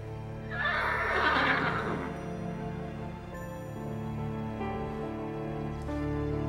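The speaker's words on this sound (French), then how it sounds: "Oh, mon petit Comanche, tu es le plus beau de tous les chevaux de la planète." Comanche, a horse, lets out a loud, close whinny lasting over a second, its voice rising and then trailing off, followed by a calmer stretch of low ambient noise.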